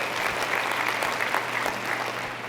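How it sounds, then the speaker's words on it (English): Steady applause from a seminar audience fills the room, dense and continuous with no breaks, fairly close and loud throughout. "As much as I love the applause"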